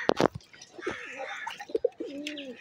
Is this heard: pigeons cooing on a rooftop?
yes